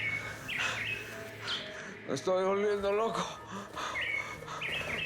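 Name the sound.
bird chirping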